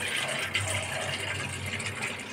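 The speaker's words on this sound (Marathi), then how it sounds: "आधी पाणी काढून घ्यायचं आहे आपल्याला" Water that soaked semolina is poured off into a vessel in a steady gushing stream, close and continuous.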